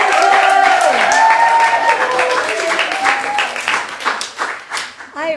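Applause from a kitchen-concert audience after a singer's performance, a mix of clapping and crowd noise that thins into scattered claps, with talk and a singing voice fading at the start.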